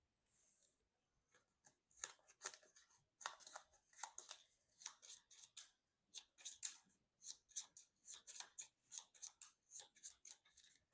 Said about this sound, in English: So we'll shuffle these 2 back into our Quicksilver deck.